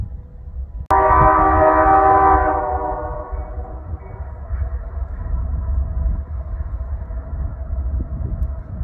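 Freight train hauling auto rack cars approaches, opening with a sudden loud multi-tone horn blast for about two seconds, then a steady rumble of rolling wheels and engine that carries on to the end.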